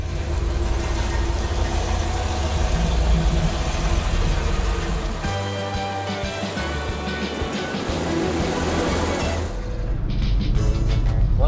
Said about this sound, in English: I'm taking the Camaro for my first little ride, and it definitely feels like a muscle car.